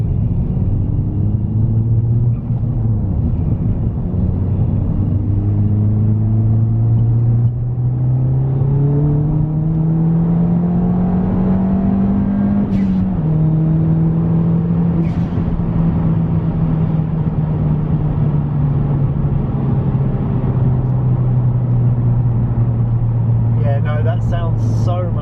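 A Ford Fiesta ST180 engine and exhaust with the Symposer deleted drones steadily with rumble as revs rise and fall, loud and close throughout.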